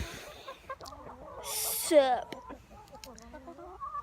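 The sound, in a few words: chicken clucking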